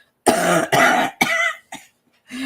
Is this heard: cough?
yes